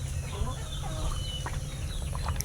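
Chickens at a rural countryside yard, scattered short clucks and calls rising over a constant low rumble of background noise, moderately close and fairly faint.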